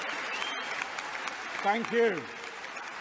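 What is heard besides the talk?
applause at Labour Party conference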